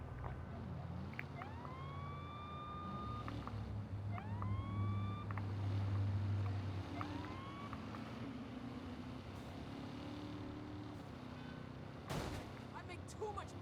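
A police car siren from the Saints Row (2022) video game gives several rising whoop sweeps over steady low engine rumble and game noise, with voices talking in the scene.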